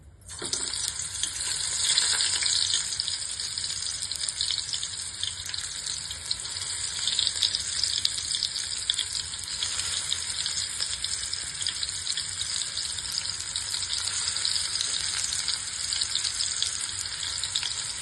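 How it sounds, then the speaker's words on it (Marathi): Stuffed bitter gourds fry in hot oil, giving a loud, continuous crackling sizzle that stays steady and close throughout, with no talking. "आता आपण तेल आपलं तापलंय आता आपण हे कारलं त्यामध्ये सोडू"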